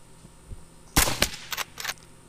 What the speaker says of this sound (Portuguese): É, atirei só pra atirar mesmo